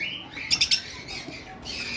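A pair of lovebirds in a nesting box give a quick burst of three sharp, close squawks, followed by fainter chirps and rustling.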